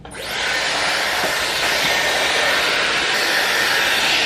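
Dyson hair dryer switched on and blowing steadily, a loud close whooshing hiss that rises quickly and holds constant without any talking.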